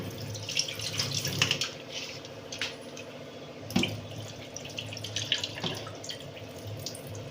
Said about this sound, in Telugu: ఇలా వాటర్ పారిపోసిన తర్వాత ఇంకొకసారి నార్మల్ వాటర్ పెట్టి వాష్ చేసుకోవాలి